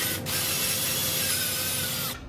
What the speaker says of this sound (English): We're going to be drilling into this block.